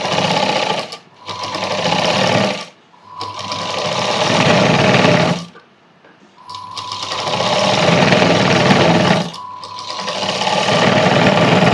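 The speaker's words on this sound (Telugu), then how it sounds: "సో మనం ఇటు సైడ్ కూడా సంఖ మార్క్ చేసుకున్న దగ్గర నుంచే స్టార్ట్ చేసి కుట్టుకోవాలి" A sewing machine stitching a cross cut blouse runs in four loud, steady bursts of whirring motor hum and needle chatter, separated by short silent pauses where it stops and restarts.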